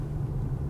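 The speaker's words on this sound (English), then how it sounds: "we've got this road with the speed bumps on." An Audi rolls over a road fitted with speed bumps, giving a steady low rumble of tyres and suspension with muted engine drone and no speech.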